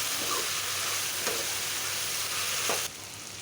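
Ginger garlic paste frying in a pan for an eggplant curry, a steady broadband sizzle with a few soft stirring scrapes, close and fairly even, with no talking.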